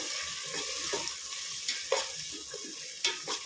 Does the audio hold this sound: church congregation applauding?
no